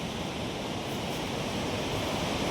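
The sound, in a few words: roaring river water at Kedarnath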